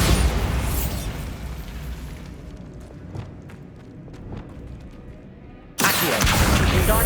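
A Bombarda blasting spell is cast inside a tomb in Hogwarts Legacy, with a roaring blast at the start, a quieter rumbling lull with faint knocks, then a sudden heavy burst of noise.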